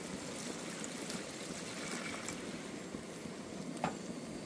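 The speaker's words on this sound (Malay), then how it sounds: "Baru kita bubuh air sikit." Water is poured into a pot of curry cooking at a campsite on Pulau Talang, near Lumut, Perak, making a steady, even trickle and splash that runs the whole time without pause or voices.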